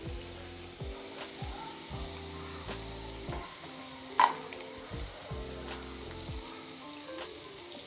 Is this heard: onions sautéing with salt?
yes